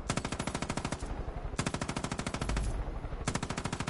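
Rapid automatic machine gun fire from Far Cry 5 plays in three long sustained bursts separated by short gaps, each a dense, loud, evenly spaced stream of shots.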